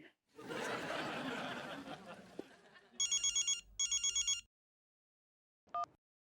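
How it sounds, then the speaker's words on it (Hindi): Laughter and chatter fade out, then a telephone bell rings in two bursts of rapid trills, followed by a short electronic beep. "यो आर्यन, ये टाइम देख के फोन ना कर सकता कि?"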